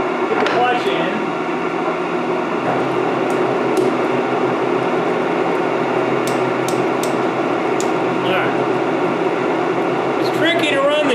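A horizontal boring mill runs steadily with its clutch engaged, a continuous droning machine hum at a steady level, with a few brief higher squeaks and clicks over it and no talk.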